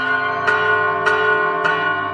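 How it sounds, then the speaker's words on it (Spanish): Church bells ring after a baptism, struck three times at an even pace, each clang blooming over a sustained, shimmering hum of overtones, loud and near. "Miren cómo sonríe con el sonido de las campanas."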